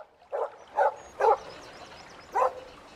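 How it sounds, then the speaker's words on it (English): A dog gives four loud, sharp barks in an irregular rhythm, close and clear against a quiet background, as an audiobook sound effect for a dog running. "nose to the ground, barking loudly"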